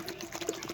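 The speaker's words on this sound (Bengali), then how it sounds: "এবার এখানে জল দিয়ে দেব" Water poured into a cooking pot of potatoes and dhumo with salt and turmeric, a short close splashing fill.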